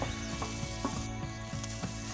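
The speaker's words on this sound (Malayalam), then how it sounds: "കുറച്ച് വെളിച്ചെണ്ണ ഒഴിച്ച് നമുക്ക് ചെറിയ തേങ്ങ കുറച്ച് വറുത്തെടുക്കാം" Grated coconut frying in coconut oil in a pan, giving a steady soft sizzle with faint rhythmic scraping and stirring clicks, close by and without any voices.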